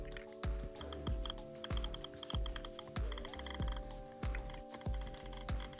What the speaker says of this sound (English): That is the sound of the Taptic engine